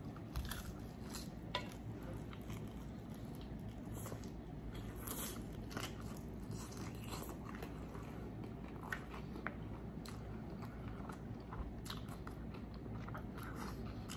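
Chicken wings smothered in atomic sauce being bitten and chewed close up, repeated crunchy bites and wet chewing over a low steady room hum.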